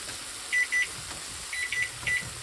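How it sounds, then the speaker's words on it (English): A kitchen timer beeps in three quick pairs of high electronic tones over faint room noise during home cooking, with no one speaking. "There's my timer."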